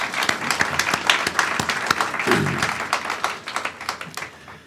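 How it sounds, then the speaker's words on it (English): A meeting audience at a foundation's annual gathering claps for honored guests, giving a moderately loud round of applause with distinct individual claps throughout and a brief murmur of voices partway. "Could we have a round of applause for those folks?"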